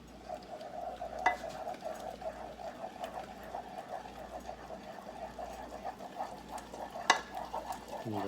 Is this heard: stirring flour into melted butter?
yes